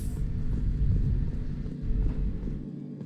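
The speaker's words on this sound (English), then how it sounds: "I think there's thunder outside." A deep, thunder-like rumble rolls through a room in the Mass Effect 2 video game, a steady heavy low roar that fills the space and eases off near the end.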